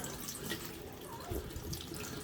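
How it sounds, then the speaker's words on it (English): Water running from a kitchen tap into the sink while a painted craft piece with a crystal effect is gently rinsed, a soft steady splashing flow, fairly faint and continuous with no talk. "we're going to move locations into my kitchen now and we're going to give it a wash"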